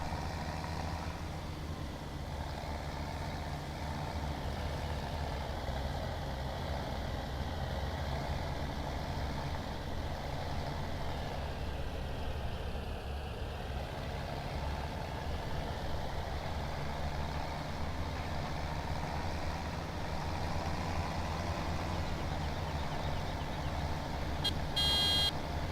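A tractor engine idles in the Farm Simulator video game, a low, steady rumble that holds constant and fairly quiet throughout, with a faint electronic beep near the end.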